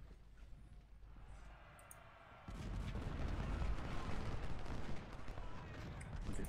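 Artillery fire in a Civil War strategy game, a low rumbling barrage that swells partway through and continues as a dense, fairly distant roll of booms, quiet overall.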